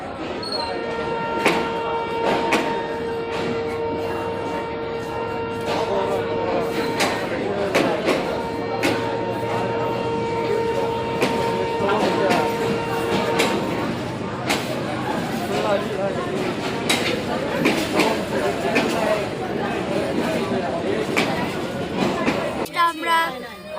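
A train pulls into a station, its steady tonal squeal of brakes or a horn sounding over a dense crowd murmur and scattered thumps, with people talking throughout.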